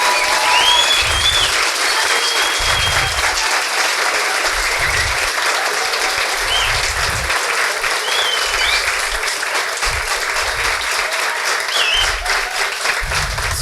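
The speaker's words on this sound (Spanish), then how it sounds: "pido que le den un enorme aplauso a nuestro invitado de esta noche" Long, sustained applause for the evening's guest on a Spanish-language show, a dense, even roar of many hands clapping, with low rumbling thumps pulsing underneath and occasional faint whistles or cheers cutting through.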